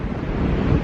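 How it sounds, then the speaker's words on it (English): Strong wind buffets the microphone outdoors on New Zealand's South Island, a dense, constant roar filling the short moment. "Bloody windy here."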